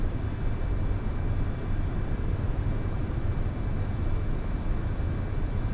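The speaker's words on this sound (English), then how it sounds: "I can hear a plane." An Airbus A320 in Microsoft Flight Simulator, flying from Dubai toward Budapest, gives a steady, dull engine drone with a faint high whine, constant and even throughout, with no talk.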